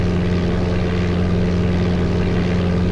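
Constant propeller engine hum from a light aircraft in Flight Simulator 95, a loud, unchanging low drone with a buzzing texture and no other sounds.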